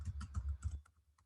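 An email address is typed on a computer keyboard, a quick run of close, light key clicks that thins out into a few separate taps, with no talking.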